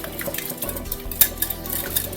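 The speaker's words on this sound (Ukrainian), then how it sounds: "Ось так гарно вимішуємо, щоб сметана з'єдналася з білком і жовтком" A spoon stirring a thick mixture of sour cream and egg in a bowl, with soft steady scraping and light clinks, close and continuous.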